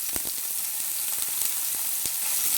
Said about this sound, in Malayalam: സോയാബീൻ ഒന്ന് വറുത്തെടുക്കാം.